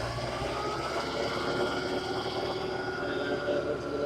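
A tractor's PTO drives a Bush Hog 286 rotary cutter with a steady, loud droning engine and spinning-blade roar that holds close and constant, with no one speaking.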